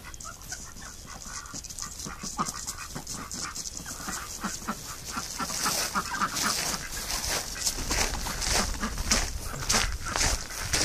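Domestic fowl such as chickens, ducks and geese on ice call and squawk in an ongoing, fairly loud jumble, with scuffling and flapping noise.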